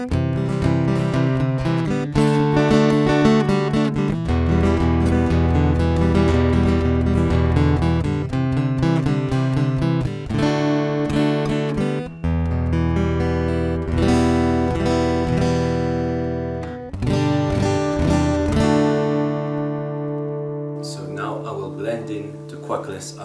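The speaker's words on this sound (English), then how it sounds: "What you hear is the guitar under saddle pickup." Acoustic guitar played through an under-saddle pickup with no effects, strummed chords and picked notes ringing clearly and up close, alone, with a final chord left to decay.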